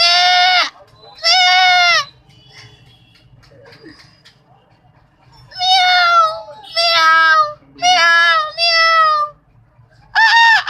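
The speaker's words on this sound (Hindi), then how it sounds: "बकरी की आवाज।" A goat bleats loudly and close up in repeated wavering calls, several in quick succession with quiet gaps between, with faint background noise underneath.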